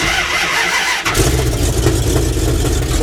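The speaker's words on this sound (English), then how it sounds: "this thing, I got it set up to where it just starts, but it does die a little bit" A cold 1974 Dodge W100 truck engine cranks and catches, settling into a loud, steady, rough idle that runs close and continuous with no talking over it.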